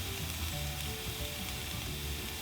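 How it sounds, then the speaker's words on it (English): Oil sizzling hard in a pan with onion and scallion, a loud, continuous hiss of frying close up with faint stirring underneath. "You can hear the oil sizzling"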